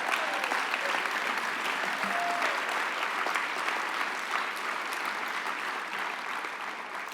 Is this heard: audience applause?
yes